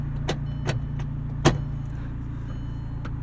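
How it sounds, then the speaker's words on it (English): A 2008 Volkswagen GTI two-door with a manual gearbox idles at a steady low hum. Several sharp cabin clicks and knocks sit on top of the engine sound, which runs alone without talk. "Engine start button."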